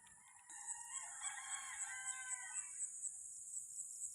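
A rooster crows in a long drawn-out call on a foggy day, set against a steady high-pitched insect-like whine and a faint rhythmic pulsing in the background.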